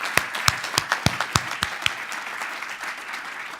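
Applause from the audience at a diversity and equity awards ceremony, with a few sharp, distinct claps near the start over a dense, steady wash of clapping that continues throughout at moderate volume.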